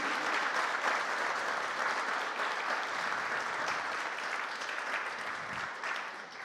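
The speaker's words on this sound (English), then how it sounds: "So I think we should begin with a big round of applause." An audience at a Gnomon event for Aaron Sims and his creative studio claps in a dense, even wash of applause that holds steady throughout and fades slightly at the close.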